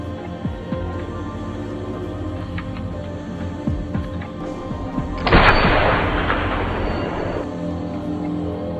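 A sniper rifle fires a single loud, close shot in a war film about a Ukrainian sniper, its sharp crack spreading into a long, decaying boom that lingers for a couple of seconds over a low background hum.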